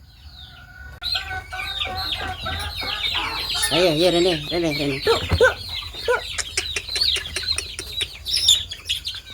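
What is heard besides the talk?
chickens clucking while being fed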